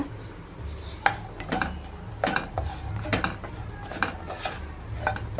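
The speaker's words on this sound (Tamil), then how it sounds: "ரெண்டையும் போட்டு நல்லா மேலே வந்து உப்பி வரணும் அந்த அளவுக்கு வறுத்துக்கோங்க" Raisins and black grapes roast in ghee in a pan, heard as close clinks and scrapes of a metal spoon against the pan in an irregular stirring rhythm, with a faint background sizzle.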